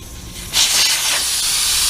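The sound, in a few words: air hissing out of a tire valve with core removed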